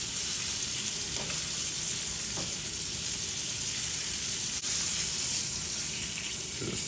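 Hot butter sizzles steadily on a bone-in NY strip steak in a pan, a dense, even hiss that carries on without a break, with a few faint clinks at intervals.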